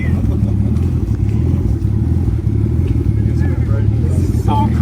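A Nissan Skyline R33 engine idles and revs lightly with a steady, mid-pitched rumble, close by, while people talk over it throughout.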